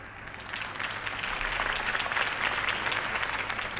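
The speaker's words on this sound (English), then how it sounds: "If only Mr. Wayne, my campaign's largest backer, could have heard that applause" Crowd applause in the Batman: The Telltale Series video game, following a campaign speech; steady, dense clapping from a large audience fills the whole stretch at moderate level, with no talking over it.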